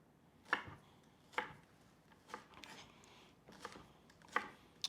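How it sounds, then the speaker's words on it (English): A knife chops onions on a cutting board in a home kitchen while Korean beef with fresh vegetables is prepared; about six sharp, separated chops at uneven intervals, fairly close, with quiet pauses between. "I do love the sound of cutting like onions,"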